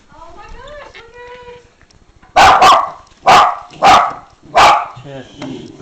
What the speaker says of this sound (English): the little dog's been barking like that a lot